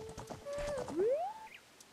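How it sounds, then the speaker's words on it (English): Epona, the horse in Zelda: Ocarina of Time, gives a short whinny with a rising neigh, close and clear, alongside light hoof clip-clop. "She's this horse. Her name is Epona."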